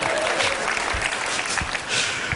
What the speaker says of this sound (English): Applause, spontaneous applause.